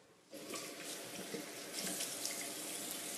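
Water running from a bathroom tap into a sink for face washing, switching on abruptly after a brief quiet start and then flowing in a steady, continuous splashing stream, close and with no talking.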